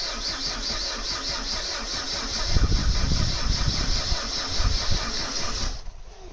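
A Vauxhall Astra Mk3 1.6 LS saloon that has not moved since 2009 cranks over with a rhythmic, labored churn, loudest in the middle, then stops abruptly just before the end.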